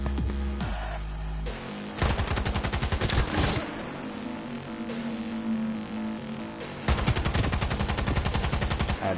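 Light machine gun in Cyberpunk 2077 fires in long, rapid bursts, loud and close, with the rattling automatic fire stopping briefly and then resuming hard near the end over game music.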